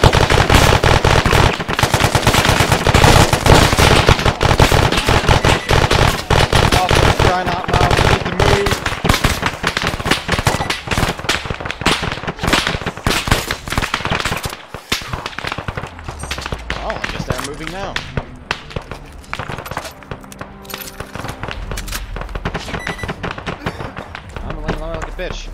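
Heavy automatic gunfire in a tactical shooter game, a relentless rattling stream of rapid shots that dominates the first half and then thins into scattered bursts, with shouting voices mixed in throughout.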